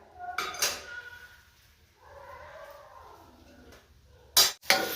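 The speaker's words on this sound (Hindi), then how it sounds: "अब मैं हल्दी को इस तरह भून लूँगी, लेकिन इसमें चम्मच हिलाते हुए रहना है" A metal spoon clinks and scrapes against a wok while turmeric fries in hot ghee for a haldi ki sabji, with sharp knocks at the start and a pair of loud clanks near the end.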